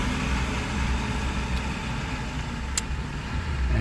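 Tata trucks grind along the rough Jiri road in a long queue, a continuous low engine rumble with steady road noise, fairly loud and close, with no voices.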